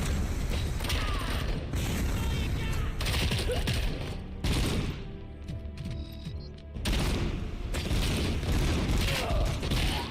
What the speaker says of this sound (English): Who's throwing all these bombs?